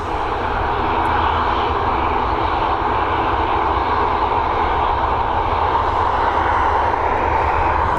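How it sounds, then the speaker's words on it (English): Boeing 737 jet engines roaring at Dublin Airport, a loud, steady, broad rumble with a hiss that holds throughout and no talk over it. "London Gatwick next with this Boeing 737, 14 years old, December 2008 registration."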